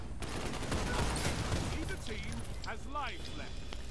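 Rapid bursts of Last Word hand cannon gunfire in Destiny 2 competitive play, a fast crackling volley under a voice talking throughout.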